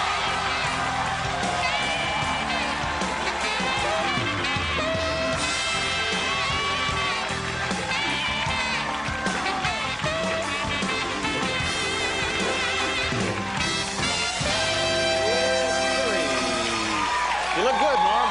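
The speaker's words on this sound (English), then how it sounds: "The crowd goes crazy." Studio audience on a late-night talk show cheering, whooping and applauding continuously and loudly, with a band playing underneath and a host talking over the crowd.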